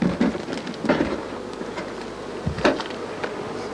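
Honey bees crowd a hive entrance, bringing in loads of pollen, their buzzing a steady close hum with brief louder passes as individual bees fly near.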